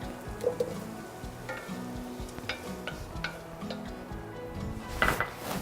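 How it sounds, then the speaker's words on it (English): Garlic and sage sizzle in a pan, a soft frying hiss under clinks and scrapes of a utensil against the pan, with a louder clatter near the end. "our garlic and sage is frying up"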